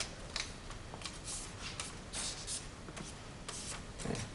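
A paper rocket fin gets folded in half, giving soft, close crinkling and rustling of paper in a few short strokes, faint and without talk.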